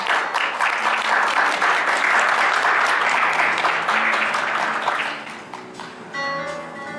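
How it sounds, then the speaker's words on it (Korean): An audience at a Renault Samsung Motors CEO handover press conference applauds to welcome the new chief executive: a dense, loud wash of clapping holds steady for about five seconds, then thins and fades out. "여러분 힘찬 박수 부탁드립니다."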